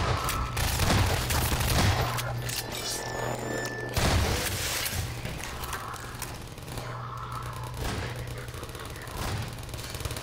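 Rapid automatic turret gunfire in the first-person shooter Half-Life 2, dense crackling bursts of shots with heavier booms mixed in, continuous and busy throughout the chaotic firefight.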